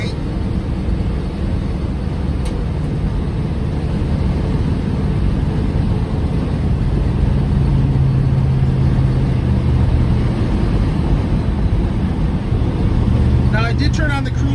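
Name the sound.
1952 Pontiac Chieftain V8 engine while driving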